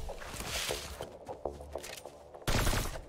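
Gunfire in the video game Fortnite, a quick scatter of sharp shots and impacts followed by a louder burst near the end.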